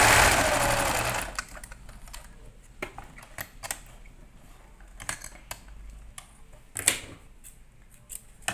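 A sewing machine sews a small bunny's outfit, one of a matching pair of rabbit clothes, with a sharp start and a run of light clicking stitches and brief taps that come through faint, close and sparse with no talk.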